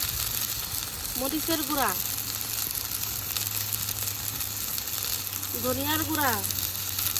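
Ground spices such as turmeric, chili, coriander and cumin paste frying in oil for a river-fish curry, a steady close sizzle running throughout beneath a voice, with a low hum in the background.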